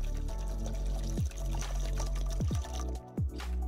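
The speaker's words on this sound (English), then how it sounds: "Now pour 1 liter water over it." Water poured from a container into a bowl of crushed garlic and turmeric, a steady close trickle and splash with a few brief breaks in the flow.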